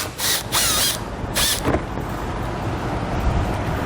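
A power tool whirs in two short bursts and then a third as screws come out of a plastic panel on a 2020 Jeep Gladiator, followed by softer rattling handling noise nearby.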